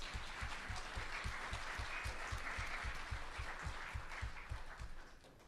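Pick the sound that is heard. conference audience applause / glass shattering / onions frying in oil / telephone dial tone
conference audience applause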